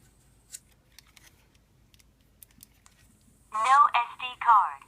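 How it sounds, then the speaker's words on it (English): A Blackvue DR3500-FHD dash camera plays an audio alert, a short harmonic electronic chime or voice-like prompt lasting about a second, heard near and clear after several seconds of near silence with faint ticks. "show a couple of the different audio alerts that this camera is capable of"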